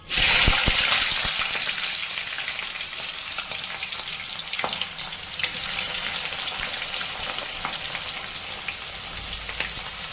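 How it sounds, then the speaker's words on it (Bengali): Onions hit hot oil in a pan for wedding-style mutton kosha, bursting into a loud sizzle at once that settles into a steady, close frying hiss with occasional stirring scrapes; no voices. "পেঁয়াজটা আমি ফ্রাই করে নেব।"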